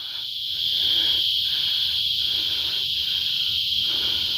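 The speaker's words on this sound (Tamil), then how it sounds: "உங்களுக்கு அந்த பூச்சிகளோட ரீங்காரம் கேட்குதா?" Insects buzzing in lemongrass on a hill, a loud continuous high-pitched drone broken by short rhythmic pulses about every three-quarters of a second, with no talking.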